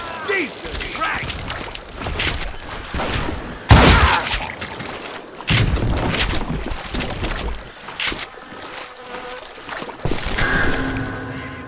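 Gunshots in a Wild West shootout in the video game Call of Juarez: Gunslinger, sharp bursts scattered through a busy game mix with a heavy boom near four seconds, under intermittent character dialogue.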